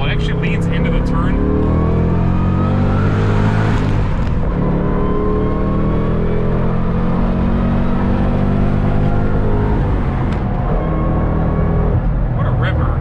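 Roush Stage 3 Mustang Blackjack Edition under way, its engine a steady loud drone with rising and falling harmonics across the run, a brief surge near four seconds, while someone talks over it throughout.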